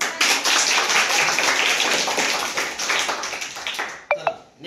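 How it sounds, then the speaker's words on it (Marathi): Sustained audience clapping after a round of a school quiz competition, dense and steady for about four seconds before thinning out into a few scattered claps and a brief squeak at the end. "टाळ्या."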